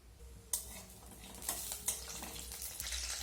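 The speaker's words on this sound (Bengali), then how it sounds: "তেলের মধ্যে এখন কিছুটা পরিমাণে চীনাবাদাম ভেজে নেব" Peanuts fry in refined oil in a wok, a quiet, continuous sizzle broken by several scraping stirs of a spatula against the pan.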